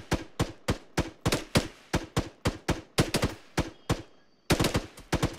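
Video game gunfire aimed at a tree, a steady string of loud, sharp single shots and quick doubles at a regular rhythm, close and dry, with one brief pause before firing resumes.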